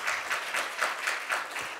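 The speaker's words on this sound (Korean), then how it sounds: "박수 한번 쳐주실까요?" Audience applause fills a conference hall at a closing session on local diplomacy and trade, a steady wash of many hands clapping with no pauses, moderately loud and without speech.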